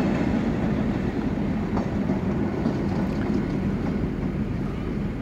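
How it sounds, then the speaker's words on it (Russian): A train arriving in a suburb of Buenos Aires, Argentina, rumbles loudly and continuously nearby, a dense rolling roar of wheels on rails without a break. "кстати, поезд приехал."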